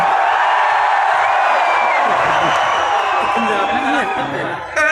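Crowd at a comedy show in Dubai making noise with cheers and whoops, a dense steady roar of many voices that stays loud throughout and dips briefly near the end.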